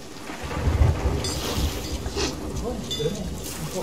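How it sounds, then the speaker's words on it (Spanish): A thunderstorm rolls over the sea in Sea of Thieves: low rumbling thunder and rain wash over a boat, a constant loud roar that swells and ebbs, with voices talking in places. "hasta que no salga de la tormenta"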